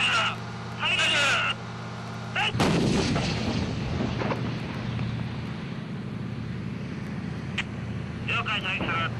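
A Type 90 main battle tank fires its main gun in one sudden, loud blast that rolls into a long, rumbling decay outdoors, with crew voices speaking before and after.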